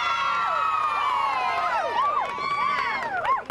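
An excited crowd at Disneyland's Lion King Celebration show cheers, whoops and shouts in overlapping rising and falling voices, loud and continuous throughout.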